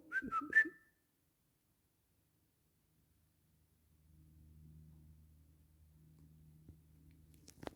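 A person whistles a brief, clear tune inside a disused wooden church, lasting about a second, followed by silence and then a low, faint rumbling hum.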